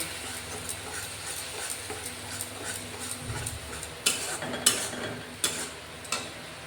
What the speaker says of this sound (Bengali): ধনে পাউডার, জিরে পাউডার, হলুদের পাউডার দিয়ে মশলাটা ভালো করে কষিয়ে নেব